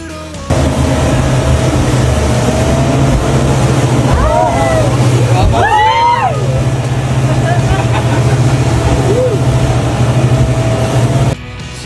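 Fast boat crossing a choppy sea to another island near Boracay, a constant loud engine drone with rushing water and wind, with voices and laughter rising over it midway.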